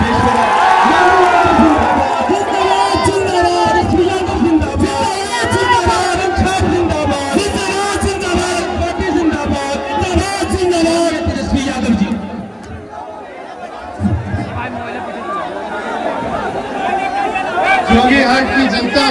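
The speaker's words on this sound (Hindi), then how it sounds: "हजारों हजार की संख्या में यहाँ लोग उमड़े हुए हैं" A huge crowd packs an election rally at Jokihat, with a dense, constant roar of chatter and occasional cheers and whoops under loud amplified speech.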